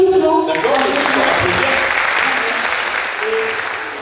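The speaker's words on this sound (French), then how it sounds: "Vos applaudissements." Audience applause fills a lecture hall during a French-language astronomy conference, a dense sustained clapping that follows briefly after a voice at the start and slowly fades over four seconds.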